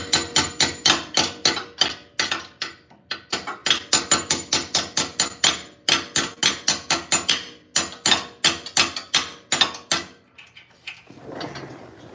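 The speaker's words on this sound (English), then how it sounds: "15/16 hammer, working great." A hammer strikes metal on a vehicle's front axle over and over in quick, steady blows, loud and close, with brief pauses between runs of hits.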